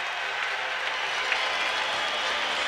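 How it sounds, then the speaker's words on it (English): Crowd at a 1978–79 WHA hockey game between the Houston Aeros and Winnipeg Jets cheering in the arena, a sustained roar of applause and voices that stays level and distant-sounding. "And listen to this crowd."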